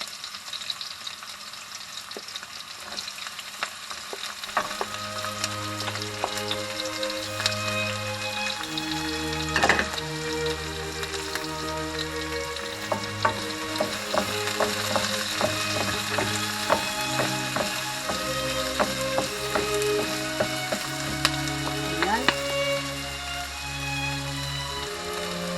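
Onion sizzling and crackling in a hot pan for chicken feet adobo, steady and close throughout, with occasional stirring clatter and no talking.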